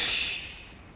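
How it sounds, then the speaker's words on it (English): A short burst of air hissing from a shot tank tire in a video game, loud at first and fading steadily over about a second. "This is the sound of air being released or whatever"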